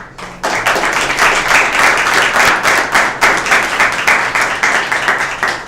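A room of attendees at a community transportation session breaks into applause after a short pause, loud close clapping with a lightly pulsing rhythm that holds throughout.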